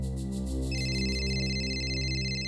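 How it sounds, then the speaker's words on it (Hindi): A mobile phone rings with a steady electronic ringtone, sustained and fairly clear over a droning musical background. "आपका फोन बज रहा है,"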